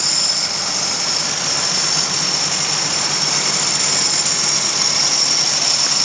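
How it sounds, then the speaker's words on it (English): Rebuilt original Super Hurricane flathead six in a restored 1960 Willys truck runs steadily, a loud continuous idle-like drone with constant hiss and no pauses for the full stretch. "original Super Hurricane flat head 6 motor."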